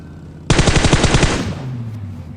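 Loud close automatic gunfire from PUBG Mobile on the Livik map: a rapid burst of about a dozen shots lasting roughly a second, then fading into a low echo and background game ambience.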